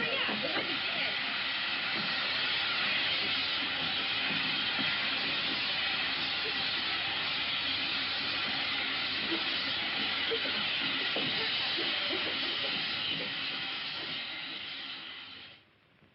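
A steady, loud hiss of steam fills a steam room without a break for about fifteen seconds, then fades away at the end, with faint voices underneath.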